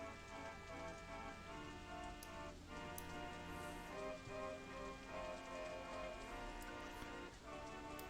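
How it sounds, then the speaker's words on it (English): Rain falling in a Minecraft-style park-building video game: a soft, steady patter of drops on surfaces with faint ticking, quiet and continuous over a low tonal background. "Oh, we got rain for the first time."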